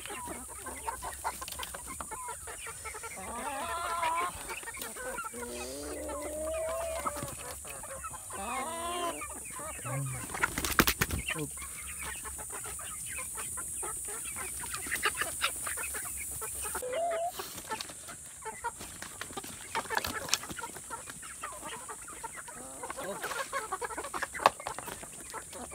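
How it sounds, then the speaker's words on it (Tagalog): Hungry chickens cluck and squawk close by in a rural yard, with scattered overlapping calls over a steady background hiss and occasional faint bumps. "Gutom na po yung mga manok, guys."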